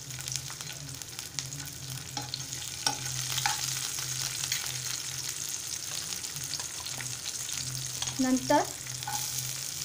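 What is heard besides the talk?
garlic and green chillies frying in hot oil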